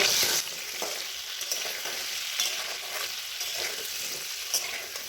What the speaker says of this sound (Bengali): আলুটাকে ভালো করে নেড়ে ভেজে নেবো